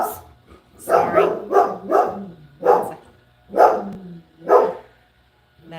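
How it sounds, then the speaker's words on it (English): A dog barks at other dogs passing by, about seven loud close barks in an uneven rhythm, with short pauses and near silence between. "That is Sabachi saying hello to the dogs walking by."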